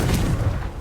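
A Confringo fire spell blast in Hogwarts Legacy, a short, loud, booming burst with a dense low rumble that quickly fades.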